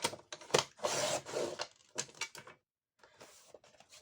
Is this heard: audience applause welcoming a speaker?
no